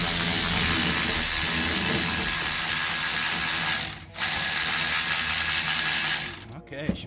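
Ratchet wrench working loose a shock bolt on a 1978 Ford F-250 after penetrating oil soaks in, a steady rapid clicking that runs nearly continuously up close, with a brief pause midway and a few louder knocks near the end.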